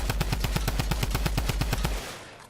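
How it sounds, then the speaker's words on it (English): Rapid automatic gunfire from a Tommy gun in Fortnite hammering a metal build, roughly fifteen evenly spaced loud shots over two seconds, then stopping abruptly with a short fading tail. "About 5 seconds for the Tommy gun to melt through all of the metal, right?"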